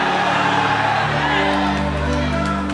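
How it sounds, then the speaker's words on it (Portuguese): A church congregation shouting glory in response to a preacher, a loud sustained crowd roar of cheers and whoops filling the space. "Quem acredita nisso, dê um grito de glória ao nome do Senhor."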